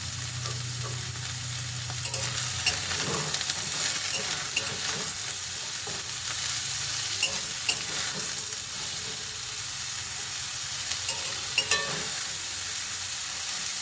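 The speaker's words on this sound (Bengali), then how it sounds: "তো পটলগুলো আমি আগে ভালো করে ভেজে নেব।" Potol pieces dusted with turmeric sizzle in hot oil in a pan, an unbroken close frying hiss punctuated by stirring clinks and small pops, with no one talking.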